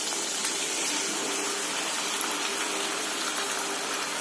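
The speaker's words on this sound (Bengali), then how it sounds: "আমি পাস্তাগুলো ঢেলে দিচ্ছি।" Pasta tipped into a pan of cooked shrimp and capsicum sets off a steady, fairly loud broadband sizzle-hiss that holds evenly throughout with no pauses and no talking.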